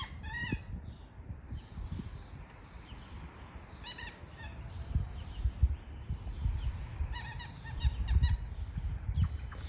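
Wild birds in a yard give short chirping bursts at intervals, moderately near, over a low rumbling background of wind or handling noise.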